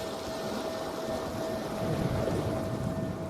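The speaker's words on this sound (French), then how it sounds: "Et j'écoute le son du bol." A singing bowl rings as a steady sustained tone over a broad wash of ocean waves, the surf swelling slightly louder toward the end.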